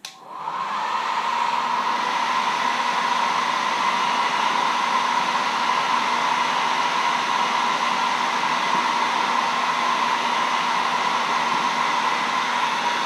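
A hair dryer drying paint on a wood carving switches on at the start and then blows with a steady, loud whooshing whir that stays constant throughout.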